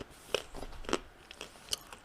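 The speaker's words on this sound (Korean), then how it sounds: "오독오독 씹는 소리" Crunchy chewing on something crisp, a few sharp bites with soft crackling between them, close and quiet, with no one talking.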